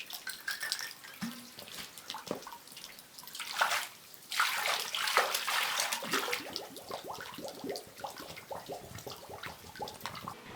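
Water is collected at Ratangad fort, splashing and gurgling into a container in uneven bursts, fairly quiet and close, with intermittent trickles and drips.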